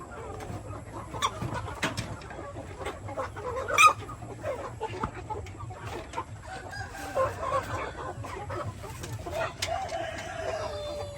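Six-month-old Barred Plymouth Rock chickens cluck on a farm in irregular soft calls, with a few louder squawks and a rooster crow mixed into light background noise.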